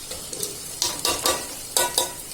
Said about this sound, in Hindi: ये दाल को भूनूंगी मैं